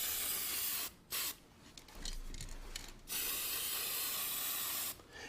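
Aerosol spray paint coating a styrofoam faux chocolate cake held close, giving bursts of loud hissing spray separated by short pauses, with one long continuous blast in the middle and another near the end.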